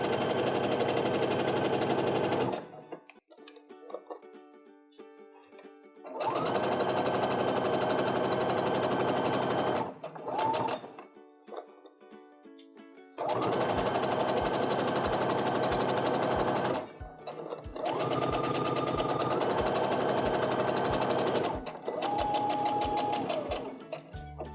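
A sewing machine stitches a quilt block seam in long bursts of fast, steady whirring separated by brief quiet pauses, close and fairly quiet.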